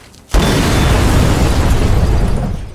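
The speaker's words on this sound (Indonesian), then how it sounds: "Jack sadar kalau mobilnya akan meledak" A car explodes in an action film scene with a sudden loud boom, followed by a sustained roaring, crackling blast that slowly fades over a couple of seconds.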